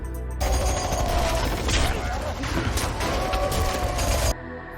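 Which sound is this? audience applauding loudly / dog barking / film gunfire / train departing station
film gunfire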